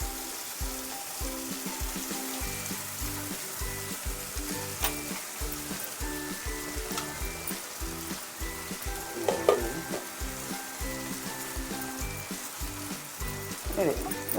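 Soaked flattened rice tipped into a hot frying pan and worked with a spoon, a continuous sizzle broken by repeated scraping strokes and a few louder knocks, alone and fairly close.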